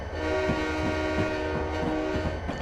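Diesel locomotive horn and ringing bell in Train Simulator 2020, on the Soldier Summit route leaving Helper, passing a work train; a steady, loud horn tone runs throughout over engine rumble, with regular bell strikes repeating about every third of a second.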